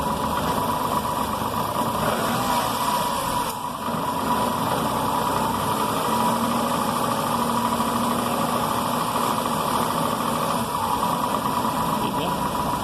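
A car engine held at 1500 rpm with lights, brake lights and audio switched on during a battery and charging-system test, a loud, steady close hum and vibration throughout, with a voice speaking over it.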